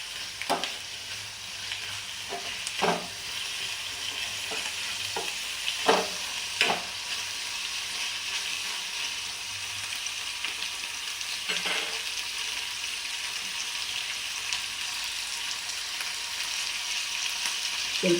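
Onion, raw ginger and garlic frying in oil for a village-style mushroom sambar, a steady close sizzle with occasional spoon scrapes and stirring clicks, no talking.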